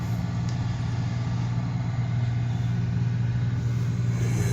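Steady low diesel rumble of a 6.5 diesel idling in a 1969 Chevrolet C10 with a 4L80 transmission, run on used engine oil and waste vegetable oil; constant, close and even throughout with no talk.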